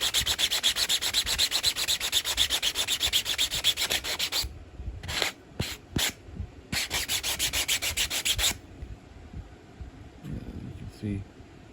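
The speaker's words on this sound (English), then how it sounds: "Just give it a good scrub there." A sanding block scrubbing a surface on a roundhouse build, close rapid back-and-forth rasping strokes in a fast rhythm, then a few short bursts and a quieter tail with a voice near the end.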